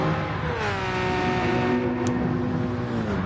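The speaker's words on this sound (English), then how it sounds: "Oh, these fantastic sounding cars." Loud Porsche race car engines roar steadily, their high whining pitch sliding as they accelerate and pass close by.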